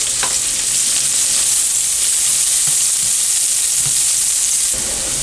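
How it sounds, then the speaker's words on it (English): Salted onions fry loudly in oil, a close, constant bright sizzle with a few soft knocks from stirring, and no voices. "My onions and everything are starting to brown up a little bit."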